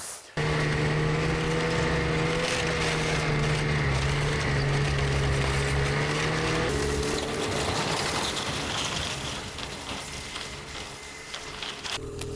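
Snowmobile engine running steadily while riding home in the snowy cold, a loud continuous droning hum with a fairly constant pitch that shifts partway through and eases off slightly toward the end.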